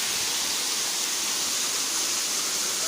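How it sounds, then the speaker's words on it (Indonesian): A roadside waterfall on a mountain trekking route pours in a dense, steady hiss of falling water, constant and close with no break or voices. "Air terjun di pinggir jalan."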